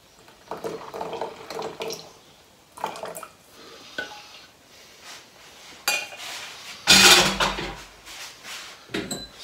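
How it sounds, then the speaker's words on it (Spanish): Utensil scraping and clinking in a bowl while flan de coco mixture is whisked, in irregular bursts with a louder clattering burst near the end, no voices. "Seguimos batiendo."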